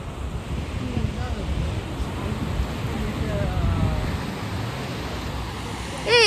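Ocean waves at Ullal beach wash in as a continuous near rush of surf with wind buffeting the microphone, a brief louder swell at the end.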